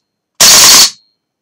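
A gun fired in full automatic, with the bolt catch held back, gives one loud, sharp, close burst of rapid shots lasting about half a second, then cuts off abruptly.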